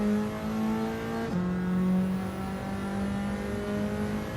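A Ferrari racing car engine in the Gran Turismo 7 video game holds a steady, high-revving harmonic drone, with a brief pitch drop like a gear shift partway through and no voices.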